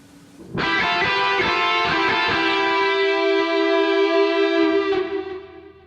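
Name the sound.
guitar melody and harmony in thirds played together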